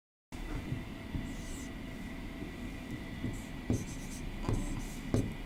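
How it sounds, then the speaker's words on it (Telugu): Pen or marker scratches on a board in a classroom-style lesson, soft intermittent strokes and taps over a steady background hum, growing busier toward the end. "ఇక్కడ రాస్తున్నాను నేను"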